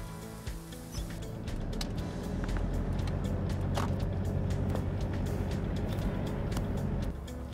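A car towing a trailer pulls away after electric brake controller calibration, giving a steady low engine and road rumble that builds and holds for several seconds, fairly close, with no talk.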